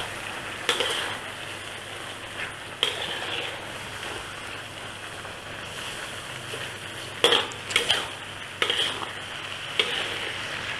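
Chicken stir-fried in a pan with shiitake mushrooms and stock, fermented soybean in the dish: a steady close sizzle with intermittent scraping stirs and a few louder clatters of utensil on pan.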